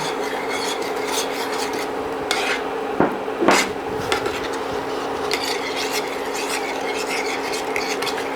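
Continuous scraping and stirring of a spoon in a pot as sugar with pectin is poured in, a steady rasping swirl with a few louder clinks partway through; no talking.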